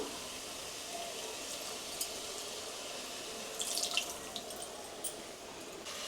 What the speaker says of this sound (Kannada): ನಾನು ಇವಾಗ ಸ್ವಲ್ಪ ನೀರನ್ನ ಹಾಕ್ಕೊಳ್ತಾ ಇದ್ದೀನಿ